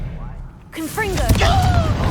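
Confringo fire spell cast in the Hogwarts Legacy video game: a sudden whooshing blast with crackling, booming impact, loud and close over a low rumbling background, with a game voice calling out partway through.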